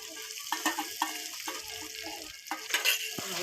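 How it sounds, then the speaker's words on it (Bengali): Onion paste and chili paste frying in a pan for a paneer chana masala, a soft sizzle with intermittent clinks and scraping strokes of stirring, close and fairly quiet without talk. "দিয়ে দেবো পেঁয়াজ বাটা লঙ্কা বাটা"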